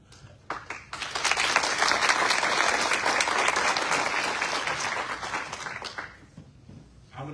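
An audience at a Hinsdale Village Board candidates night applauds a candidate: a full, dense burst of clapping swells in quickly, holds steady for about five seconds, then fades out with a few last claps.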